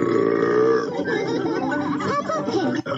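An Amazon Alexa smart speaker plays a cartoon Peppa Pig belch, a loud, drawn-out burp that ends in a few gurgling, snorting sounds.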